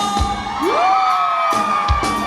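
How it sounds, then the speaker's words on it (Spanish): Women at a wedding dance in San Agustín Oapan let out a loud shout and whoop together that rises and holds, with thumps and bangs from the festive crowd around it. "Y todas las mujeres se pegan un grito."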